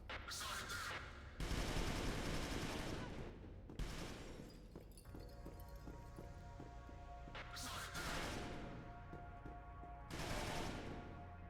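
Enemy gunfire in a video game crackles in rapid bursts, loud volleys separated by short lulls with mechanical clatter between them.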